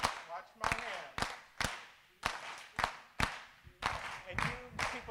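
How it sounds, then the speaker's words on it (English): Audience at a live performance claps hands together in a brisk, steady rhythm, with crisp, close claps repeating about twice per second and overlapping slightly as sections of the crowd join in. "And you people in the middle, you're gonna clap"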